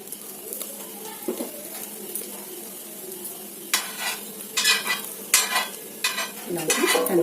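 Bread slices toasting in ghee in a pan: a soft, steady sizzle broken by several louder spatula scrapes and stirring bursts in the second half, while pigeons or doves coo faintly in the background.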